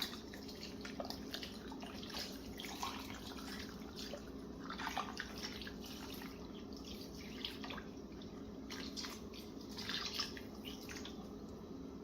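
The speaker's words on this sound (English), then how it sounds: "we're going to use about 3/4 of a container of beef broth" Beef broth poured from a carton into a crock pot, a soft, steady liquid trickle with faint drips running quietly for several seconds.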